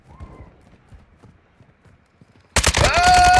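In Call of Duty Modern Warfare II, near-silence with faint soft clicks gives way after a couple of seconds to a sudden, loud, sustained burst of automatic gunfire.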